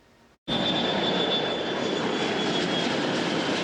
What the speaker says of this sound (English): Most planes are taking off on time at Hollywood Burbank Airport